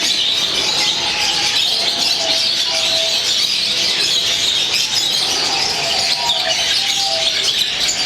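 Lovebird chicks chirping, a steady stream of thin, high tweets and cheeps close by, with brief talk mixed in among the calls.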